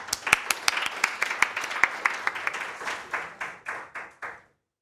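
A small audience at a Korea-Germany digital health forum claps in welcome, with sharp individual claps that thin out and fade within a few seconds.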